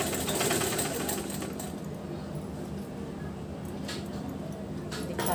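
A sewing machine runs steadily while stitching a double katori blouse, a continuous fast whirring hum at moderate level with faint background noise and no talking.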